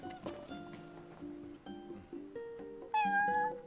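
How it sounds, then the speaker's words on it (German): A cat in the video game Final Fantasy XV meows several times in quick succession. The calls rise into a louder, drawn-out meow near the end, set against a soft game backdrop. "Eine Katze? Was machen die hier?"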